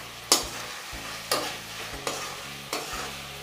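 A spice mixture of cumin powder and black pepper powder is stirred in a pan, four distinct scraping strokes spaced about a second apart over a soft, steady sizzle.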